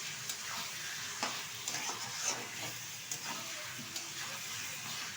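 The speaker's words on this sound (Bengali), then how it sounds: "এখন ভালোভাবে মশলার সাথে চিকেন আর আলুটা কষিয়ে নেবো আবারও" Chicken and potato pieces are sautéed with spice paste and a pinch of sugar in a Barisal-style chicken curry, a faint steady sizzle punctuated by soft irregular stirring scrapes, with no speech.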